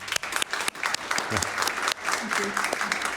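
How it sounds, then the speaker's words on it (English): A business event audience breaks into applause for a presenter, with brisk clapping from a modest crowd and a few sharp individual claps standing out, brief and close, with some voices underneath. "Let's give a round of applause to"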